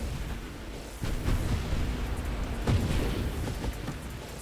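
Rumbling, muffled booms roll on continuously with a few sharper thuds standing out, a dense wash of explosions in the video game Nova Drift, with no talking.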